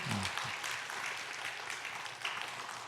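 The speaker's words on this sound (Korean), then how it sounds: "우리 성가대가 행한 모든 일에 대하여 우리 감사의 박수로 격려하도록 하겠습니다" A church congregation claps in thanks for the choir during a worship service, a continuous even wash of applause heard at moderate distance.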